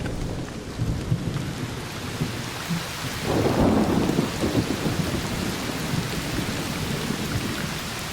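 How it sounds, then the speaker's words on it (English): Heavy rain pours steadily in a video game thunderstorm, a dense loud roar with a deep rumble of thunder swelling midway, no voices. "The thunder, the rain itself is so loud that it covers footsteps of enemy people"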